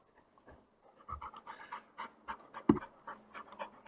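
A dog pants close by in quick, soft rhythmic breaths, a short burst of panting with no talk over it.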